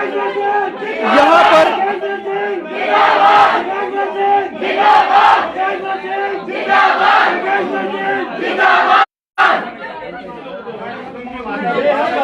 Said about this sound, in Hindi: हर कोई जय जयकार कर रहा है नरेंद्र मोदी के